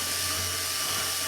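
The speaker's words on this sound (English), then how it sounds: "I'm just gonna burr it out a little bit just to see." Power tool deburring a hole in a steel barrel stove build, a steady whirring grind heard close and continuous through the short stretch with no talk.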